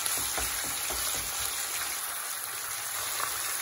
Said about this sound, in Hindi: कीमा ऐड करने के बाद इसको ऑयल में हल्का सा जीरे के साथ हम इसको फ्राई कर लेंगे